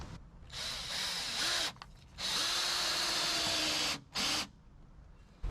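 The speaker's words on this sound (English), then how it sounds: "So I put each of these screws in a little bit of an angle and make sure I catch that board." A power drill driving screws at an angle into a boat floor board, two long whirring bursts with short pauses and a brief third burst, close and fairly quiet.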